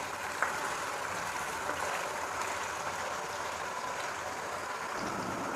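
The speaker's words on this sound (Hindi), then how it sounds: "साथ साथ ही हमारा मटन फ्राई हो रहा है।" Pieces of mutton frying in a home kitchen pan for biryani give a steady, even sizzling hiss that holds at a constant level for several seconds, with no voices over it.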